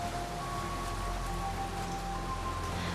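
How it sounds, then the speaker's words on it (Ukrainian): Steady rain patters continuously on a surface, a dense, even hiss with a low background hum running underneath. "коли почався дощ"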